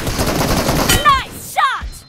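Several rapid gunshots in PUBG crackle close and loud, followed by two short voiced shouts.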